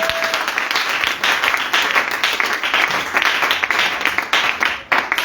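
A church congregation claps together for the Lord during a Sunday service, a steady dense burst of applause filling the room at constant loudness for several seconds.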